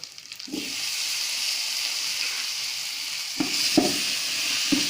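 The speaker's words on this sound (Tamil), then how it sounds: "புளி நல்லா வதங்கட்டும் இப்போ தக்காளி போட்டுடலாம்" Tamarind and tomato sautéing in a pan for a pirandai chutney: a close, steady sizzle and hiss with a few louder spatters and stirring clacks near the end.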